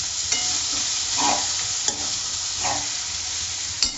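A capsicum and egg stir-fry is stirred in a sizzling pan, with steady frying hiss and a few scraping strokes of a utensil at intervals, close and alone without speech.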